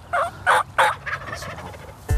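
A wild turkey gobbler with a double beard gobbles outdoors during a hunt, three loud rattling gobble bursts followed by a softer trailing series of calls, fairly close and with no talk over it.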